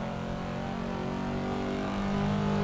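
A V8 engine swapped into a Mazda Miata in Assetto Corsa gives a deep, steady droning growl at constant high revs. The tone climbs slightly toward the end, loud and continuous, with no talking.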